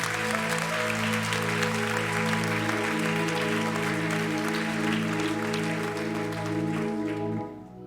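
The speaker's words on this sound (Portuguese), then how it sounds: "dá um aplauso ao Senhor e um grito de Jesus." A church congregation applauds steadily and loudly for several seconds over sustained organ or keyboard chords, the clapping thinning out near the end.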